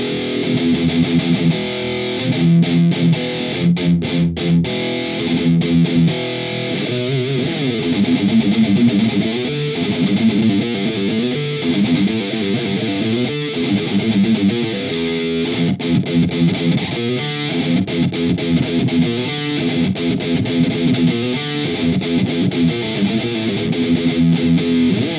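High-gain CFH Distortion guitar preset from an Amplitube 4 plugin, playing loud chugging palm-muted riffs with sharp stops and continuous saturated tone throughout.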